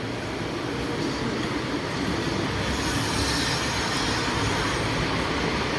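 An elevated MRT Purple Line metro train rumbles past at Talad Bang Yai, Thailand, in a continuous loud roar of wheels and motors, swelling slightly as it goes by.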